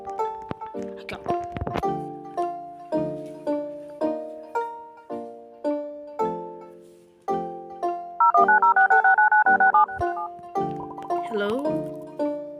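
A sequence of telephone keypad tones in a video game as a red phone is dialed, roughly a dozen evenly spaced beeps followed by a rapid warbling ring pattern, heard alone without talk.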